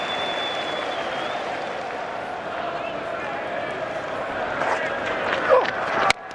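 A cricket crowd at Edgbaston breaks into broad applause and rising cheers during a Test match, steady and distant-sounding, with a commentator talking over it.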